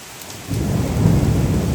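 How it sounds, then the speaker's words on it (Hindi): Thunder during a heavy village rainstorm: a loud rolling rumble swells in after a brief hush and holds over dense, steady rain noise, with no talking. "एते बादल गरजै छै"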